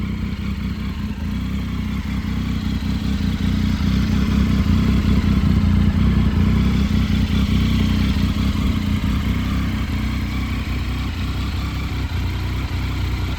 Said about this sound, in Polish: dużo fajniej chodzi ten motocykl na tym wydeszku